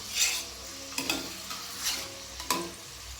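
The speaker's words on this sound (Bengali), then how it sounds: "ভালোভাবে নাড়াচাড়া করে আমি একটা প্লেটে নিমকিগুলো তুলে নেবো" Nimki, small fried flour snacks, are stirred in bubbling hot oil, with a soft steady sizzle broken by several scraping strokes of a utensil against the pan at irregular intervals, close and fairly quiet.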